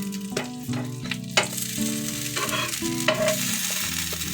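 Slices of bread frying in ghee until crisp, a steady sizzle with scraping stir sounds and a few sharper clatters of a utensil against the pan, close and fairly loud with no talking.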